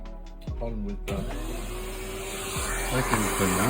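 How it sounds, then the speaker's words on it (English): A vacuum cleaner switches on and runs steadily with a whining hum while trimming shaggy material on a miniature Jack Skellington figure, preceded by a few soft clicks, moderately quiet. "vacuum cleaner."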